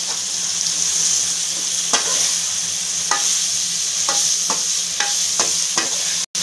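Six finely chopped tomatoes cook in a pan with a constant bright sizzle, while a spoon scrapes and taps against the pan in several distinct strokes.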